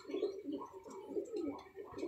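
A Golden Teddy pigeon coos in soft, throaty repeated rolls, close and clear, several low burbling phrases in a row without talk.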